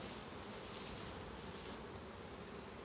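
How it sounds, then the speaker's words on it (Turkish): A faint, steady drone of many honeybees buzzing together as they return to the hive, continuous and distant-sounding, with no voices. "şu an Arılar dönüş yaptı. Bal getirmekteler."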